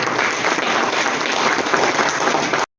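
An audience at a school storytelling competition gives a round of applause, a loud, continuous burst of clapping that cuts off abruptly at the end.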